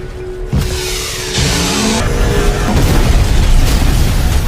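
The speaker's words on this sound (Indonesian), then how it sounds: "Lalu, psikopat terlihat seperti akan meledak." A sudden loud boom followed by a sustained roaring rumble that swells and continues, like an explosion and its aftermath.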